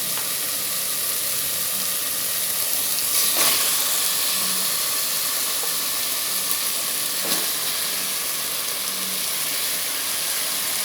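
Chicken pieces sauteing with softened tomatoes in a pan for a Tamil chicken kuzhambu, giving a steady broad sizzle and hiss throughout with a few brief louder stirring scrapes, no talking.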